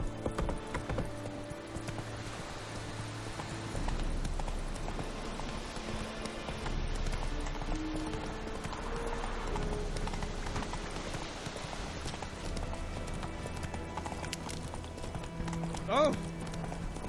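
Roach the horse gallops in The Witcher 3, steady clip-clop hoofbeats running continuously under a busy game soundscape with a voice speaking.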